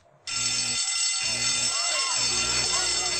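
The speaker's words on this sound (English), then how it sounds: "Hey, that's the fire alarm." A loud, continuous electronic fire alarm starts abruptly and rings steadily at a power plant in The Simpsons, with a pulsing low tone beneath and faint background sounds.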